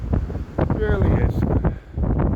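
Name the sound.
waves crashing on the windy Blackpool seafront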